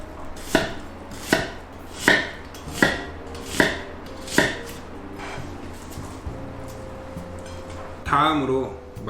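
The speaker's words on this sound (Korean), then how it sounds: "양파하고 대파 그리고 마늘을 손질해 줄게요" A knife chops an onion on a board in six evenly spaced, sharp, close thunks. After a short pause comes a softer scraping rustle near the end.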